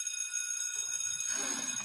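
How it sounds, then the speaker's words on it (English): A school bell rings in an episode of the iCarly TV series, a bright, sustained metallic ring that starts alone and is joined by a rising rumble of background noise. "There's the bell."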